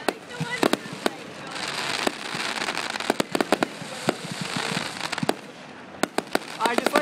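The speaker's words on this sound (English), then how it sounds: "I just like fireworks in general." Fireworks explode outdoors in repeated sharp cracks and bangs, some single and some in quick clusters, over a continuous crackling hiss. Near voices chat throughout.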